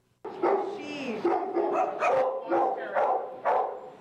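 Several dogs bark and yip in quick overlapping bursts, close and loud, echoing inside a kennel.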